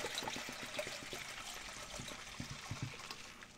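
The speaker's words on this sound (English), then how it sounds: "Let me pour up a little dew so I can get some energy." Mountain Dew soda is poured into a cup, giving a faint, steady trickling and fizzing splash for a few seconds against a quiet indoor background.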